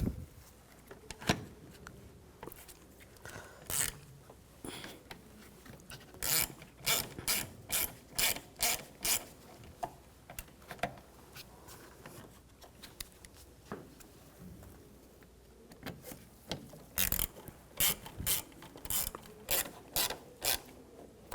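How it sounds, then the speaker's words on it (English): Screws are being started by hand into a coolant reservoir on a 2011-2018 Volkswagen Jetta 2.0L L4, giving a close series of quick ratcheting clicks in short rhythmic runs with brief pauses, no talking over it. "Now take the screws, get the screws started."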